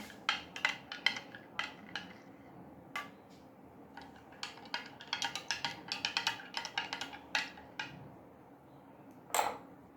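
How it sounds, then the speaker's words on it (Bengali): A spoon stirs and clinks against a glass or bowl while raw-mango sherbet ingredients are mixed, producing a busy run of sharp metallic taps and scrapes with a louder clink near the end. "চামচে করে একবার আমি সবগুলোকে মিশিয়ে নিচ্ছি"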